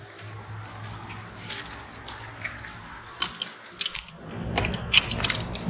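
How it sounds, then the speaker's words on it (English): A wrench tightens a fitting on a Seastar steering cylinder being resealed in a marine workshop, making short metallic clicks and ratcheting bursts that grow denser and louder toward the end. "Take our wrench and tighten it up."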